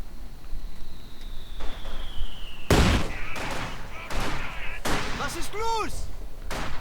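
Rifle grenade blasts and gunfire in Company of Heroes 2 sound as a loud explosion and sharp bursts of shots over battlefield noise, along with a falling whistle and chiming game effects, while a commentator talks over the action.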